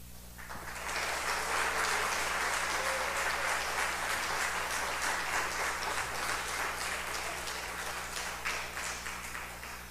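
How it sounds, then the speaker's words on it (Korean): A large church congregation gives sustained applause, dense clapping that starts suddenly and carries on steadily for several seconds. "나오실 때 큰 박수로 우리 환영하겠습니다."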